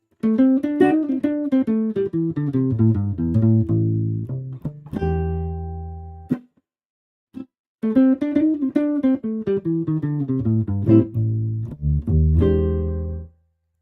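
A seven-string jazz guitar plays a chord-based tune with strummed and picked notes, pausing briefly midway before continuing at a steady volume.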